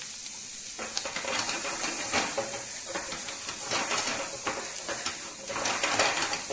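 Chopped onions fry in butter and cream for a ragu, giving a steady broad sizzling hiss with faint crackles and occasional clinks, moderately loud and unbroken throughout.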